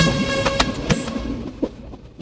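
A crowded passenger train rolls along, with metallic clanks and rattles of the carriages close by and a brief high squeal.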